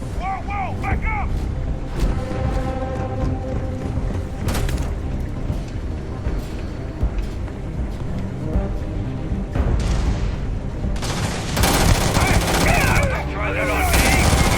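Sustained gunfire from a firefight in the sci-fi game Starfield, with rapid bursts and heavy booms running throughout, growing denser and louder toward the end, mixed under voices calling out.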